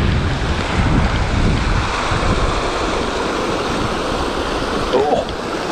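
Water pouring over a small dam on the Mad River, a steady broadband rush with some wind buffeting the microphone throughout.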